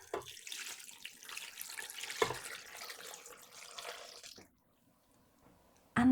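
About a litre of water pours from a tap into a pot for collagen-rich stock made from leftover roast dinner bones, a splashing rush for several seconds that cuts off, then quiet.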